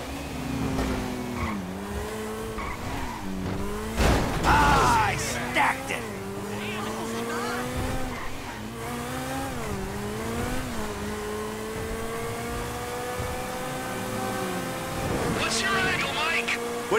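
Cars racing in Grand Theft Auto 5, engines revving and shifting pitch with bursts of tire squeal, loud and close, while people talk over the action.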